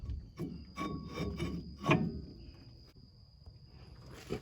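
Brake pads sliding into a disc brake caliper on a classic 1960s Ford front disc brake kit, a few close metallic scrapes and rubs with a light knock, then quieter handling.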